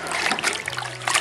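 Water sloshes and trickles in a bucket during wet sanding prep for truck rust repair, a brief, close splashing with bright dribbling sounds.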